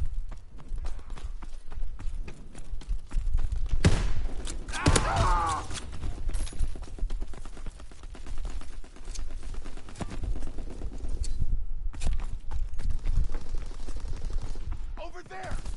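Call of Duty gunfire: sharp shots and rapid bursts crackle over a dense, busy battle bed. The volleys are loud and close, swelling and fading across the stretch.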